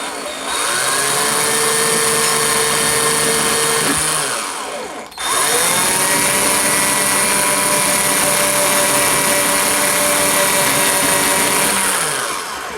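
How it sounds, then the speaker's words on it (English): Close, loud whine of an electric drill running steadily while filing threads for carbon arrow tuning, cutting off briefly and then spinning up again for a second long run. "I'm going to turn my drill on, and it's rotating towards me."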